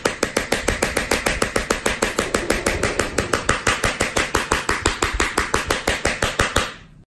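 A very sharp knife scraping across a Redmi Note 7 phone display in fast, regular strokes, about forty sharp close scratches at an even rhythm that stop abruptly near the end.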